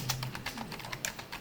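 Rapid keyboard clicks as a search is typed into Google on a computer, steady close tapping with no talk.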